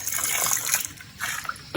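Fresh spring water trickles and splashes from a natural spring outdoors, a steady bright rushing with a slight swell near the end.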